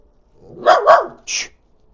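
A dog barks in two quick close-together barks, followed by a higher, sharper yip-like bark, all nearby and loud against an otherwise quiet background.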